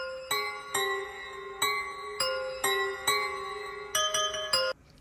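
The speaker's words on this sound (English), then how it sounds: "I made a really catchy melody that's really repetitive." A repetitive bell melody in a produced beat, bright chiming notes struck in a steady rhythm with a short pattern looping and sharp attacks that ring on briefly, playing alone with no voices.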